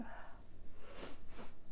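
Quiet, close sniffing after an almost-sneeze: a soft breathy snort, then two short sharp nasal sniffs, heard alone in a hushed, intimate setting.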